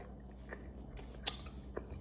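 Crunchy-topped oxtail mac and cheese is bitten and chewed up close, with quiet moist chewing and a couple of sharper crunches standing out.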